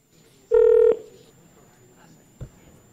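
A single steady telephone dialing tone sounds clearly for about half a second before a phone call, followed by a quiet room and one faint knock.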